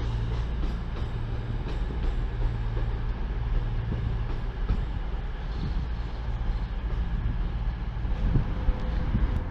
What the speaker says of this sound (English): Another 185 unit leaves the station.